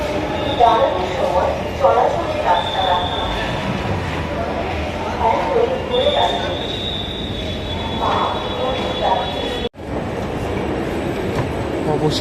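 A Dhaka Metro Rail train pulls into a station: a loud rumble and rail roar with faint high whines and squeals, while people chatter nearby on the crowded platform.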